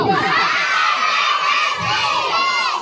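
A crowd of children shout together on cue at a first birthday party at a beach resort, a loud, continuous cheering roar with no one speaking over it.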